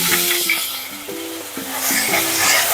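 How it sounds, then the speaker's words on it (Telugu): Spices and curry leaves crackle and sizzle steadily in hot oil for a leftover-rice dish, with bright spitting noise throughout and a few soft pan or stirring knocks beneath. "తాలింపు వేగిపోయింది కదా"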